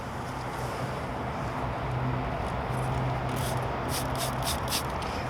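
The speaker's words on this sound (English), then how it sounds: "Couple sprays directly onto the applicator." A handheld sprayer gives a quick series of short hissing spritzes of tire dressing onto an applicator, close, over steady background noise, while detailing a 1965 Mini Cooper.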